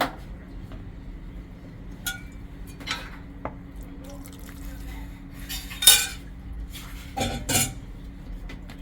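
Cutlery clinks against a dish while homemade cat food is stirred, a few scattered scrapes and taps with one louder clatter near the middle, close and fairly quiet.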